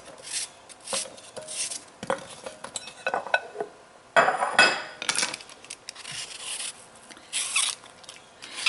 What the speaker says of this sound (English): I will take them each like this and slice them. Thin slices